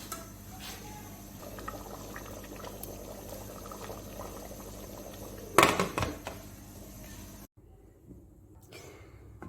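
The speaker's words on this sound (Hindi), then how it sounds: "आपको जितना शोरबा चाहिए उतना डालें, मुझे जितना चाहिए उतना मैं डालूंगी।" Broth is poured into aloo gosht, a potato and meat curry, in a pressure cooker. Soft liquid burbling and trickling lead into a louder splashing pour, then the sound drops away abruptly into near silence.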